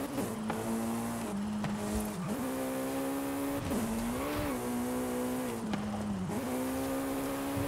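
A Jaguar C-X75 in Forza Horizon 5 drives hard with a steady high engine whine that dips and recovers through corners, tires squealing intermittently, close and loud with no talk.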